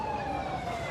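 An ambulance siren wails steadily nearby in a blocked street during a large march in Algiers, a continuous tone sounding over low traffic and crowd rumble.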